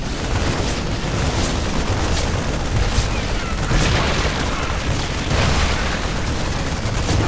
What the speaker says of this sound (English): Queens getting some good damage in on the medevac over here